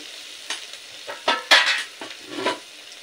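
Vegetables for shrimp fried rice sizzle in a pan while being tossed, with rhythmic scraping and clinking bursts of the spatula over a low hiss, close and uninterrupted by speech.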